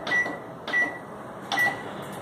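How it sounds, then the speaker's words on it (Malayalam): A microwave oven preheating to 200 °C gives three short evenly spaced beeps with a thin tonal ring over a quiet low hum. "ഞാനിവിടെ മൈക്രോവേവ് 200 ഡിഗ്രി സെൽഷ്യസിൽ പ്രീ ഹീറ്റ് ചെയ്തെടുക്കുകയാണ്."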